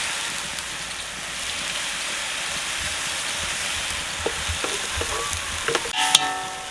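Garlic and ginger paste with green chili paste frying in oil for a large fish karahi in a village setting, a steady broad sizzle with a few faint clinks and scrapes near the end.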